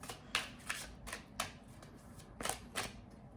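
Tarot cards being shuffled up close in quiet surroundings: several short, crisp riffling bursts spaced irregularly, with no voices.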